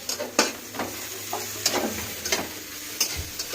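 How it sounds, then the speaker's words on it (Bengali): Vegetables fry and sizzle in a pan while a utensil stirs them, giving repeated sharp scraping clicks over a constant hiss. "এই যে এখানে সবজিটা ভাজছি"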